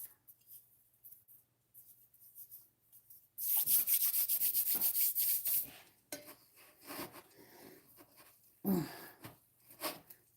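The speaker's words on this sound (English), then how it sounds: "if you rub your hands together, it'll take most of the dough off your hands" Dough-covered hands rub together in a loud, continuous scrubbing burst, then in softer intermittent rubs, close up and with no talking.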